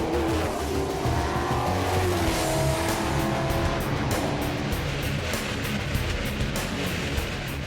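NASCAR race cars lap the track during a practice session in Montreal in poor weather, a continuous loud roar of engines with tire noise and passing cars, dense and unbroken.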